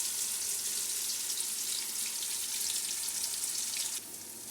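Chopped onions and curry leaves hiss and sizzle steadily in hot frying oil, a dense broadband crackle held close and even, dropping slightly in level near the end, with no voices.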